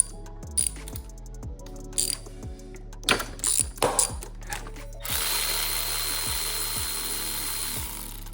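Ratchet wrench loosening a 10 millimeter bolt on a 2008-2012 Honda Accord 2.4L during power steering pump removal: bursts of fast, close metallic clicking separated by pauses, with a steady mechanical whir filling the last few seconds.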